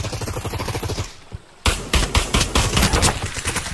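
Rapid pistol fire in the Pavlov VR shooter, a dense stream of close, loud shots that breaks off into a brief quiet gap before the firing resumes in steady, repeated bursts.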